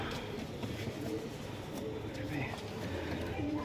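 Pigeons coo low and repeatedly over a steady bed of background noise, with voices talking nearby.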